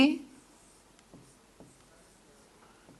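Pen writing by hand on paper in a short session, a few separate faint scratchy strokes after a brief voice at the start.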